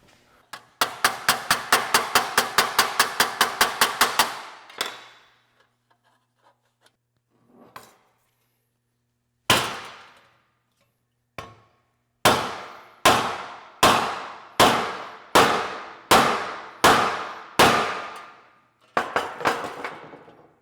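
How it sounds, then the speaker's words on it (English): Sharp metallic body-hammer taps on sheet metal for hot rod louvres: a fast run of rapid blows, a few isolated strikes, then a steady series of evenly spaced ringing hits. "I'm gonna tap this down a little bit first with a body hammer."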